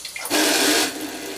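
Bidet attachment nozzle sprays water in nozzle-clean mode, a loud steady hiss that rises abruptly, holds for about half a second, then settles to a softer continuous spray.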